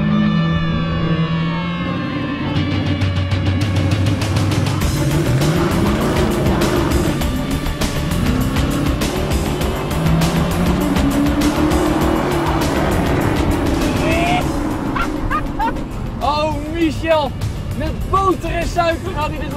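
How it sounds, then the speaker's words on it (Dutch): Cars in a drag race: loud revving engines and squealing tires, with engine pitch rising and falling over a steady roar, while people speak over the noise throughout. "Michel, wat is nou een beetje de truc van die drag race?"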